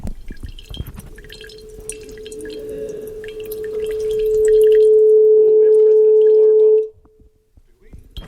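Water streams out through a hole punched in a plastic water bottle, a steady tonal hiss that swells louder midway and stops abruptly; a faint voice is heard near the start.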